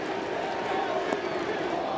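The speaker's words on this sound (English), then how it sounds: "Crowd chanting MVP as Joey Votto digs in to begin the bottom of the eighth." A Cincinnati Reds home crowd at a 2010 baseball game chants MVP as Joey Votto comes up in the bottom of the eighth, a dense, steady roar of many voices filling the stadium without a break.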